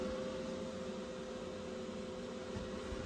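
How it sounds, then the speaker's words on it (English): An air conditioner running inside a camper van produces a constant, even hum and airy hiss that holds steady throughout, moderately loud and close, with no other sounds breaking through. "Sorry about the noise from the air conditioner."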